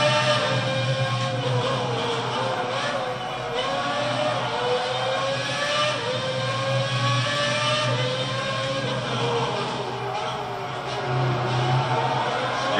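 Ferrari Formula 1 car engine screaming in the F1 2006 racing game at the Spanish Grand Prix, a loud continuous high-pitched whine rising and falling with gear changes throughout.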